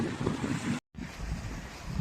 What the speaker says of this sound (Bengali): আজকেও অনেক বাতাস